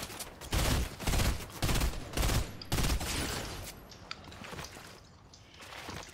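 Bursts of automatic gunfire in the Fortnite video game, several loud rapid volleys in close succession, then sparser distant shots and scattered clatter.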